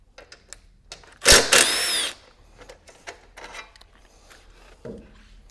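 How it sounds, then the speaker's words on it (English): Power drill or impact driver briefly backing out the seat bolts on a Honda CRF300L motorcycle, a loud close whirring burst of about a second amid quieter workshop handling noises. "I'm going to pop the bolts out"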